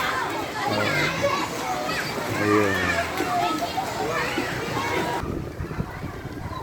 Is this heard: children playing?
yes